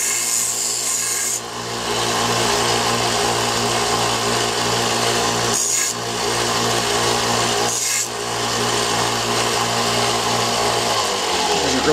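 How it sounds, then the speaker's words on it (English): A belt sander lightly deburring drilled metal runs with a loud, continuous rasping whine, briefly easing off twice before spinning down near the end. "lightly with a sand belt sander just to get the burrs off where I drilled"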